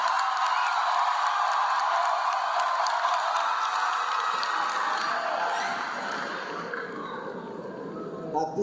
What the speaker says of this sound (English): I say clap for yourself.